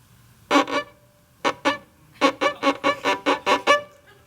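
A violin played in short, squeaky, rhythmic strokes that mimic creaking bedsprings, starting with a few bursts, then a quick steady run.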